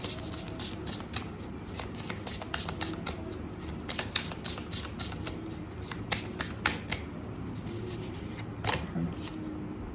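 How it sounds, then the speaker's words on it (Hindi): Tarot cards being shuffled by hand, producing rapid, crisp riffling and flicking bursts that repeat unevenly throughout at close range, with no talk. "कुछ कार्ड्स मैं इसमें से भी निकालना चाहूँगी कि आपके लिए क्या वो बताना चाहते हैं"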